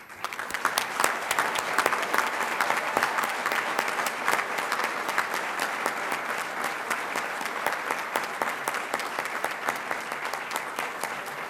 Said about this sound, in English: Why don't you give them all a very warm applause?